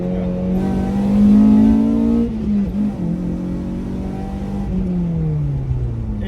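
A K-swapped car's engine revs up to a high, sustained whine close by, then drops and settles back into a rough, steady idle.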